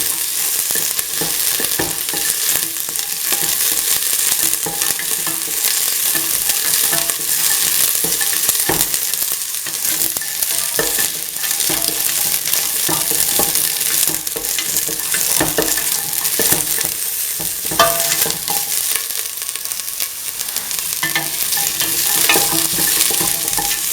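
Chicken sautéing in a pan for a mint coconut milk stew, a steady close sizzle and frying hiss with occasional stirring scrapes throughout, no talking.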